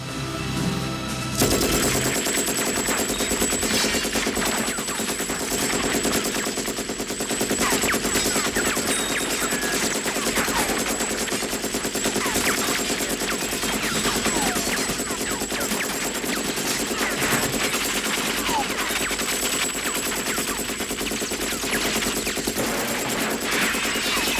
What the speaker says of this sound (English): The image of Big John tearing it up, single-handedly wielding the M60 with a bullet belt draped around his personage